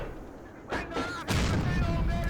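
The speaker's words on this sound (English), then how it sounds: "I'm using the high explosive shell because I have so few armor piercing shells." A StuG III assault gun fires a high explosive shell in the Steel Fury tank game, one booming report followed by a second louder blast that keeps rumbling over a steady low engine hum.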